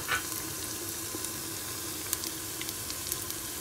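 Cumin and whole spices sizzling in hot oil for a trotters curry, a constant close hiss of frying with scattered tiny crackles and pops, and no talking.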